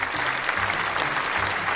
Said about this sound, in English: applaud her